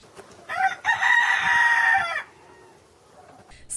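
A single loud rooster crow rings out close by, a long strained cock-a-doodle-doo lasting over a second before fading to quiet.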